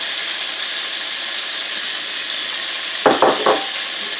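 Tomatoes and green onions cooking in butter in a pan, a steady bright sizzle holding throughout, with a few short louder stirring or scraping bursts near the end; no talking.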